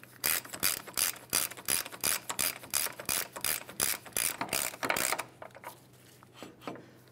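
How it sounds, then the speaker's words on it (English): A hand ratchet snugs up a 36 mm front axle nut on a 2002-2007 Chevrolet Trailblazer. It gives a rapid series of crisp, close clicking bursts in steady strokes, then falls quiet. "Start that on by hand and we'll snug it up using a ratchet."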